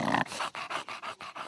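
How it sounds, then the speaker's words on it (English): An English Bulldog snorts and pants close by in a quick run of about six rhythmic, raspy huffs with a faint growling edge. "I like all the funny sounds that they make"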